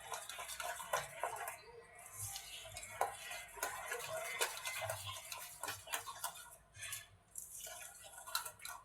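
Strawberry shrikhand being beaten by hand, strawberry folded into hung-curd chakka, gives a steady run of quick clicking spoon-against-bowl taps with faint wet squelches, close and moderately quiet, with no talking.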